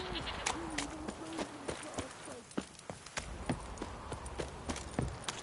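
Horse hooves in The Witcher video game, a rhythmic clip-clop of hoofbeats, fairly close and moderately loud, with a voice speaking and a brief bleating sound early on.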